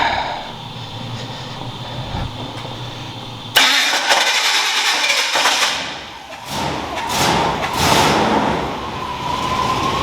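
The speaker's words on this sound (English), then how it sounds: "It cranks. It's not like it's skipping, but it does not sound good either." A car engine cranks, then catches and runs with a rough, uneven note, loud and close, revving and surging in waves after starting.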